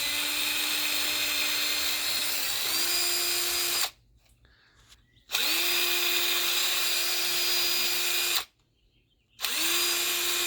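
A power drill fitted with a drill bit grinds wood like a rotary tool while making a wooden lamp, giving three runs of loud, high whine separated by two short stops.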